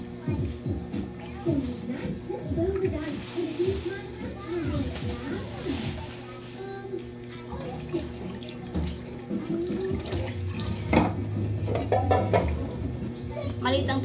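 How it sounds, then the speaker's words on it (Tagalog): Dishes washed by hand in a small home kitchen: running tap water and clinking plates under a voice talking steadily throughout. "Hugas-hugas plato for this video."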